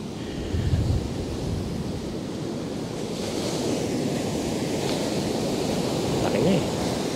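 Big ocean waves surge in at high tide, a steady broad roar of surf with wind rumble on the microphone, swelling louder toward the end as the sets arrive.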